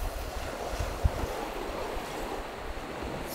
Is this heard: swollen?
yes